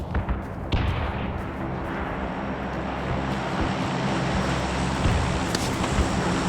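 Gunfire in PUBG, a few sharp shots including one loud crack near the start and another later, over a steady low rumble of background engine noise.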